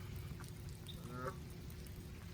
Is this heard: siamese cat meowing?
no